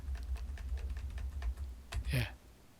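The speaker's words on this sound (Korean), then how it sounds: "컴퓨터 키보드에 화살표 키들을 이렇게 누르면은" Arrow keys tapped repeatedly on a computer keyboard, a steady run of light, close plastic clicks followed by a short louder burst near the end.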